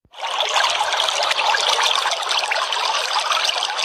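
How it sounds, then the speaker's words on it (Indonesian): Water trickles and flows steadily, a continuous close splashing rush with no other sounds. "suara air mengalir,"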